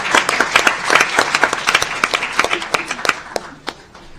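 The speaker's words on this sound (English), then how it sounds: "let's give one more round of applause to all the members of Congress who joined us" Audience applause for members of Congress at a policy summit lunch plenary, a dense burst of many hands clapping that swells early and gradually thins toward the end, fairly close and loud.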